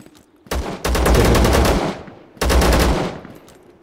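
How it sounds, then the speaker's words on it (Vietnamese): Two loud bursts of rapid automatic gunfire in the video game ZERO Sievert, close and harsh, separated by a brief pause with a fading tail after each burst. "có tiếng súng ở đâu bên đây"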